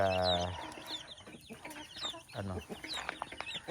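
A brief voice opens, then chickens cluck and chatter nearby in short bursts over a quiet background.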